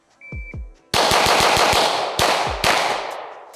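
A rapid string of handgun shots from a Glock 45 or SIG P320, fired fast at a range: a couple of quick pops, then a dense burst of about seven sharp cracks, followed by two more blasts, loud and close.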